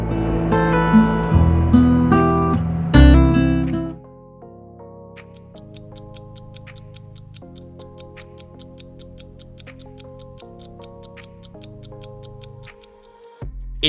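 An excerpt of a song plays: a dense, loud opening section gives way to sparse sustained tones with a steady ticking rhythm, with no talk over it.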